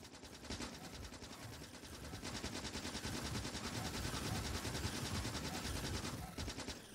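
Sustained rapid gunfire from the video game Factorio as players shoot down biters, a dense continuous rattle of automatic fire lasting several seconds with a brief lull near the end, no talking.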